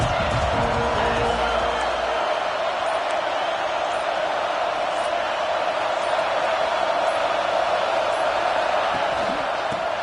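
A college football stadium crowd cheering in a video game, a steady loud roar holding level across the whole stretch, with a low rumble early on.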